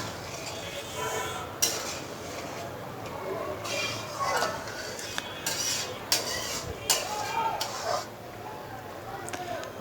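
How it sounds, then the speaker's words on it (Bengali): A spoon stirs lentil dal in a pot, scraping and clinking against the metal in irregular strokes, with a steady low bubbling simmer underneath and occasional sharper knocks. "তো একটু নাড়াচাড়া করে দিয়ে নিয়ে আমি আবার ঢেকে দিব।"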